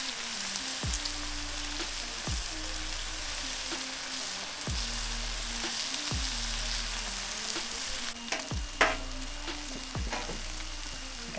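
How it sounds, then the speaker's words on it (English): Eggs frying on a Pit Boss five-burner griddle turned down to low, a steady close sizzle and crackle running throughout, with a few sharper taps and scrapes near the end and no talking. "Got our eggs are cooking."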